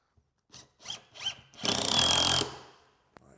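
A power drill drives screws into a wooden crate joint: three short bursts of the drill, then one longer steady run, heard up close with no talking.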